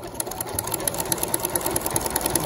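A sewing machine fitted with an overlocker side cutter foot runs a wide zigzag stitch, trimming and finishing a fabric seam with a steady, rapid mechanical whir and evenly ticking needle strokes, close and continuous.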